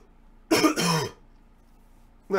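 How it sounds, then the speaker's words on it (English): A single close, rough cough or throat clear breaks the quiet, followed by silence and the start of another at the end. "I wish this cough would go away."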